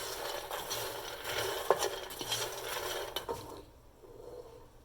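Spoon scraping and clattering in a pan as masala makhana (fox nuts) are stirred with green chili powder, salt and spices, a close run of soft scrapes and light taps that fades toward the end.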